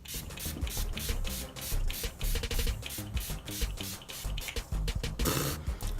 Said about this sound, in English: The Urban Decay All-Nighter Spray.